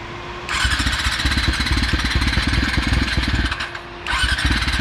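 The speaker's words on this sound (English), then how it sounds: "Oh, look at that. It's idling." An engine runs at a steady, throbbing idle with a high whine layered on top, briefly dipping before settling back.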